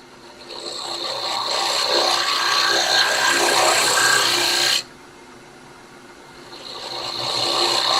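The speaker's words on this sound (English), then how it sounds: "we'll clean that up with a scraper." A scraper works across wood spinning on a lathe, producing a loud, continuous rasping hiss that swells, cuts off abruptly, then resumes as the lathe hums on.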